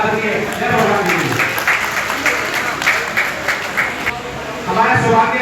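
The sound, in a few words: audience applause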